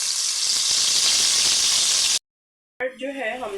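Onion and tomato paste hitting hot oil in a pan for tandoori egg curry, giving a loud, steady broadband sizzle for about two seconds that cuts off abruptly, followed by a voice speaking.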